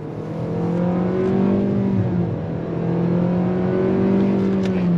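A 2025 Nissan Kicks small SUV accelerating in sport mode, its engine drone rising steadily and continuously from inside the cabin, loud and sustained with no talk over it.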